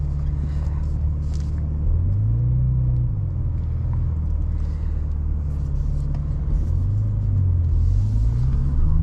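A BMW M3 G80 with a manual gearbox cruising gently along a road in Romania, its engine a steady low drone with mild rises and dips in pitch and constant road rumble.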